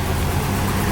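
Nissan 240SX S13 engine idling at its first start-up, misfiring while the motor shakes on worn mounts; a steady, close, unbroken rumble with no voices.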